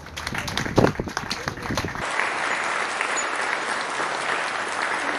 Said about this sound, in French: applaudissons pour nous-mêmes encore